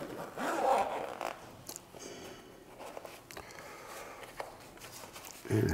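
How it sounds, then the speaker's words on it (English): A zipper is pulled open on the case of a pair of Leica Noctivid 10x42 binoculars, a few short close rasping zips with soft handling rustles between them and a louder pull at the end. "these zippers feel really nice"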